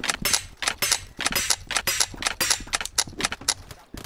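Rapid bursts of video game gunfire crack out over and over in an irregular string of sharp, loud shots, some spaced apart and some clustered, with no talking.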